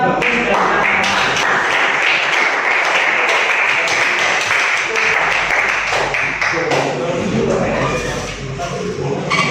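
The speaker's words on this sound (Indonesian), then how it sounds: "tepuk tangan untuk kelompoknya" Classroom applause for a student group after its presentation, dense sustained clapping with shuffling and background voices throughout, close and loud.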